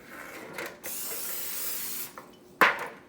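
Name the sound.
cooking spray being sprayed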